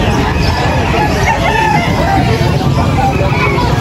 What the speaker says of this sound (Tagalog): Puro manok. Dami manok dito.